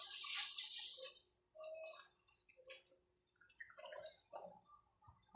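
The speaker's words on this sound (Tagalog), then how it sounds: "Lagay na rin natin yung gata." Coconut milk is poured into a cooking pot, giving a close, gurgling liquid splash at first, then softer bursts of pouring and dripping with brief pauses in between.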